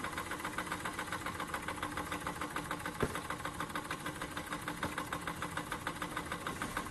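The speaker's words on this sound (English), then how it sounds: "that's a sign of a good steam engine if it will run really slowly" A RETROL SE-02 model steam engine with boiler chugs steadily at a slow, even pace, its rhythmic puffs and mechanical knocks repeating without pause; one sharp click stands out midway.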